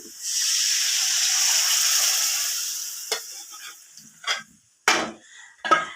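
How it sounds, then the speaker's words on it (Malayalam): A roasted coconut paste poured into a hot pan for a Kerala onion theeyal gives a loud hissing sizzle that fades after a few seconds, followed by scattered spoon clinks and scrapes. "നമ്മൾ അരച്ച് വെച്ചിരിക്കുന്ന തേങ്ങ വറുത്ത് അരച്ച് വെച്ചിരിക്കുന്ന നമ്മുടെ അരപ്പാണ് അപ്പോൾ അത് നമ്മൾ ഇതിനകത്തേക്ക് ഒഴിച്ചു കൊടുക്കുകയാണ്"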